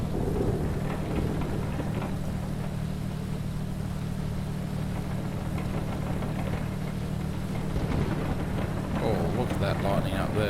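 Thunderstorm with steady rain in the Prepar3D V3 flight simulator, Active Sky Next weather, a dense constant wash of rain and low rumble filling the whole stretch, with a brief swell of crackle near the end.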